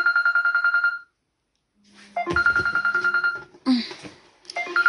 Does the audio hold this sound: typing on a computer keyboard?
no